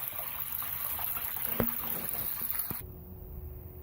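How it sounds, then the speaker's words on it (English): A washing tank for a bubble ice water extraction machine fills with water, a steady close rushing pour that runs for almost three seconds and then cuts off, leaving a faint low hum. "We're just going to fill it up with water here now"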